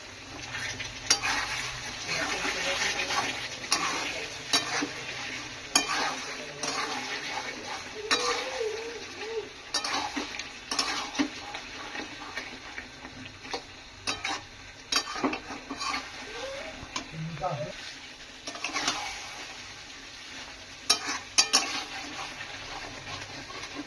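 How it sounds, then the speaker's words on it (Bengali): Chicken with kasuri methi is stir-fried in a pan, with a steady sizzle broken by repeated spatula scrapes and clinks against the pan over a long stretch, fairly close and moderately loud. "মাংসটা টোটাল কষে এসছে, আমি এর ভেতরে একটু কস্তুরি মেথি অ্যাড করে দিলাম"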